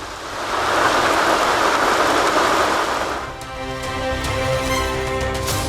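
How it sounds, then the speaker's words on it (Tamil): Heavy rain pours down in northern Indian states in a loud, dense hiss for about three seconds, then gives way to quieter tonal sounds. "வட மாநிலங்களில் வெளுத்து வாங்கிய கனமழை"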